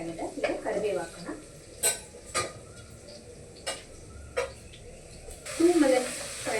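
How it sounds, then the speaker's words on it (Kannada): Green chillies and curry leaves fry in a pan for poha chivda, with a soft sizzle beneath a series of sharp metallic clinks and taps from a spoon against the pan. "ನೋಡಿ ಹಸಿಮೆಣಸಿನ್ಕಾಯಿ ಸ್ವಲ್ಪ ಫ್ರೈ ಆಗಿದೆ. ಈಗ ಕರಿಬೇವು ಹಾಕೋಣ."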